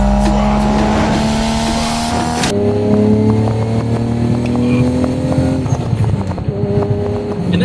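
A Nissan Skyline GT-R R34 engine roars loudly and close, holding a steady high rev that suddenly drops to a throaty, rumbling lower idle with sustained harmonic drone.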